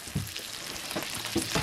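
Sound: fish frying in a pan

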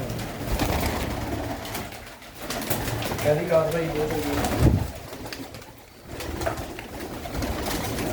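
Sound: pigeons cooing

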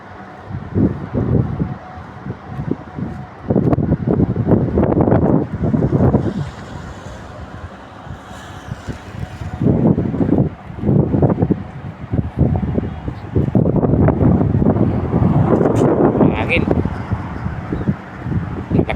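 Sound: strong wind

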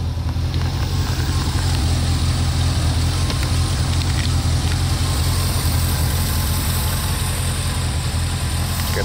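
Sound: 1981 Corvette C3 engine running at idle

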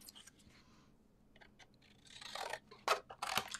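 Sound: scissors cutting paper

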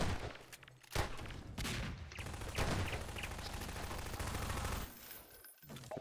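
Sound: shotgun blasts in Quake deathmatch video game

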